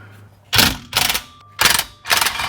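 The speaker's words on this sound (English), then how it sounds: "19 millimeter socket and wrench to get this drive shaft off the differential, which we're going to use an impact for" Impact wrench with a 19 mm socket loosening drive shaft bolts at the differential of a Mercedes W210 wagon with an M113 swap: four loud, close mechanical rattling bursts of about half a second, with short gaps between them.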